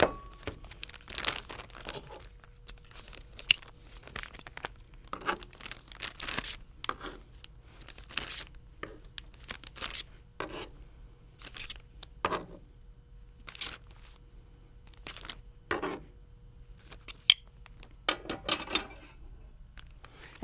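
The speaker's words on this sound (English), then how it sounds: "I'm going to put this into a plastic bag using my tongs" Tongs move raw beef for a broccoli beef stir fry into a plastic bag, making steady crinkling and rustling with sharp clicks and tapping scattered throughout, close and fairly quiet, with no talking.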